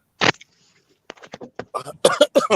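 A single sharp cough up front, followed by a pause and then someone talking at close range.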